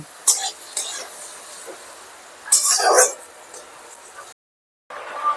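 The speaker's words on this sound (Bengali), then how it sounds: "দুটোকে আমি একসাথে মিশিয়ে ভালো করে ভেজে নেব।" Vegetables such as carrot and beans fried with egg for egg chow mein, stirred in a hot pan. Spatula scrapes and brief sizzling bursts come in uneven strokes, close and moderately loud, with a short cut to silence near the end.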